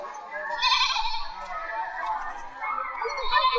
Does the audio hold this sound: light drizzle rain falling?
no